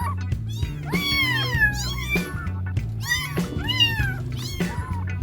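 A 27-day-old female village kitten, a local stray-type cat, meows repeatedly in close, insistent cries over a low background hum.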